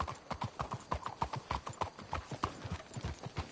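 Horse hooves clip-clop in a brisk, even rhythm on a trail in Red Dead Redemption 2, several animals moving together close by with no talk over the steps.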